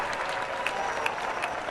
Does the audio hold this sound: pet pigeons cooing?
no